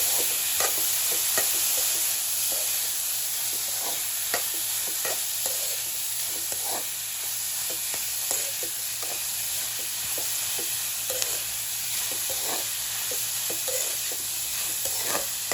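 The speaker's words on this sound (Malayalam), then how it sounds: "ഇനി നമുക്ക് ഇതിലേക്ക് വെള്ളമൊക്കെ വാർത്ത് മാറ്റി വെച്ചിരുന്ന പാവയ്ക്ക ഒന്ന് ഇട്ട് കൊടുക്കാം. എന്നിട്ട് നന്നായിട്ടൊന്ന് ഇളക്കി കൊടുക്കാം." Drained bitter gourd pieces frying in a pan for pavakka chukka are stirred continuously. A constant close sizzle is broken by frequent sharp spatula scrapes and clicks in an uneven rhythm, with no talking.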